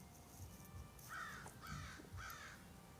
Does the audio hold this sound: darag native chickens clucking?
no